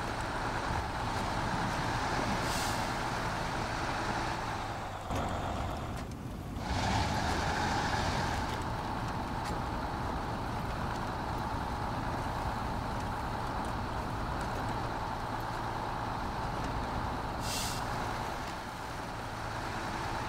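A modded MAN TGS480 10x4 truck crawls along in SnowRunner, held almost entirely in first gear. Its low engine drone stays steady, with brief hissy bursts and a short dip partway through.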